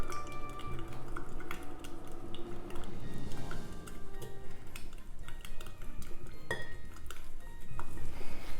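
Spoon clinking and scraping in a container while blue colour is stirred into melted soap base, quiet irregular taps and clinks with light sloshing, no talk.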